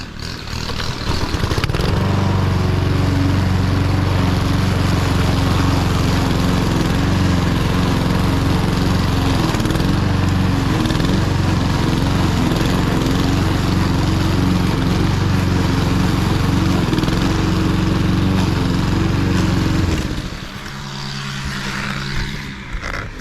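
A lawn mower engine roars loud and close as it chews through thick, wet, months-overgrown grass, holding a steady drone for about twenty seconds before dropping to a lower idle.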